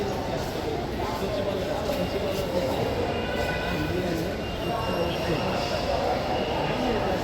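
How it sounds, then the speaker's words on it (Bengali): A Dhaka metro rail train pulls into a station with a steady, loud rumbling roar and rail noise, holding at an even level throughout amid a busy platform crowd. "মেট্রো চলে আসছে, আমরা এখন উঠে যাব।"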